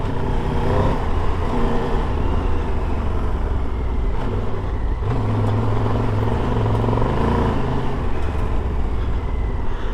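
A 2022 Triumph Tiger 1200 Rally Pro motorcycle runs fast over gravel roads, its engine droning loud and steady throughout, with a brief throttle change partway through and continuous road and wind roar.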